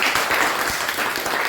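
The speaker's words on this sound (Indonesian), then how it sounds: "Ya, tepuk tangan untuk temannya." Students in a classroom clapping for a classmate, a loud, dense and continuous burst of many hands, close and steady throughout with no talking.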